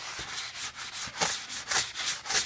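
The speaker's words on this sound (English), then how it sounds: "You can also take this sanding sponge and go along the edge here." Rhythmic dry rubbing strokes, about ten in a row, as a sanding sponge is worked back and forth along a caulked tub edge, close and steady.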